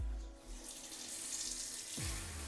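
Tap water gushes steadily into a sink for washing the face after a face mask, a close continuous splashing rush with a brief dip and shifting flow partway through.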